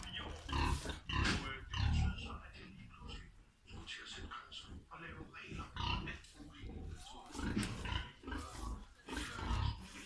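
Pigs grunt and snort continuously in a conventional Danish pig farm barn where a sow is giving birth, the low, rough calls close, loud and overlapping in uneven bursts.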